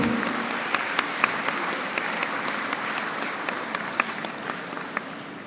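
Sustained audience applause at a university convocation ceremony, dense steady clapping with occasional sharper individual claps standing out, fairly loud and continuous throughout, no talking.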